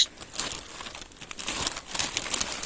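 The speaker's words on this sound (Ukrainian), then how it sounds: "Почекай, пакет возьму." Plastic bag rustling and crinkling close by outdoors, a steady run of dry crackles with brighter bursts, no talking.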